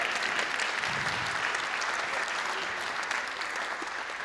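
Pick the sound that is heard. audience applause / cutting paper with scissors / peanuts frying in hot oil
audience applause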